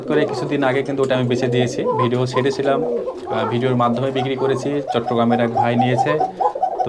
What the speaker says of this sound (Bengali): এখানেও শুনতে পাচ্ছেন আমার যেখানে কবুতর থাকবে রাজশাহী লোকাল গিরিবাজ এবং কোকা কবুতর